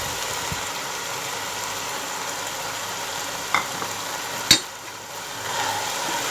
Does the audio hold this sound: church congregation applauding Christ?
no